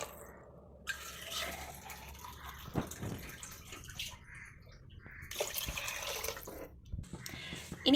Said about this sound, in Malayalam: അപ്പോൾ അതിന് 4 ഗ്ലാസ് വെള്ളം ഒഴിച്ചു കൊടുക്കാം.